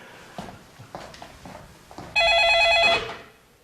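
A telephone rings loudly in one electronic burst of about a second, cut off as it is answered, after quiet rustling and soft movement sounds.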